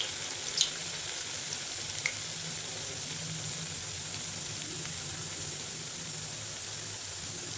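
Medu vada batter frying in hot oil over a medium flame, a soft continuous sizzle with faint bubbling and a couple of small pops near the start, fairly quiet and close.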